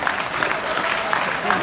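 A live audience at a school percussion show cheers and claps steadily, a dense wash of applause and shouts with no clear breaks, fairly loud and close.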